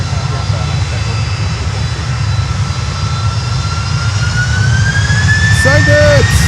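A heavy cargo jet taking off from runway 9 at Miami Airport, a loud, steady engine roar with a rising whine building toward the end, alongside talking.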